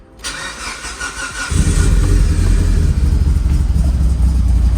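A Mitsubishi Lancer Evo 8 engine cranks briefly with a whirring starter, then catches and roars into a loud, rough, breaking-up cold idle that continues steadily up close.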